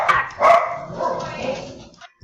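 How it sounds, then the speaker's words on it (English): Dogs barking in a Fredbear horror video game, a few sharp close barks followed by softer yips and whimpering over about two seconds. "Dogs!"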